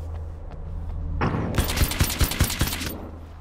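Nail gun firing in the video game Alan Wake's American Nightmare: a loud burst of rapid, sharp repeated shots, about six distinct cracks in quick rhythm over a steady background hum.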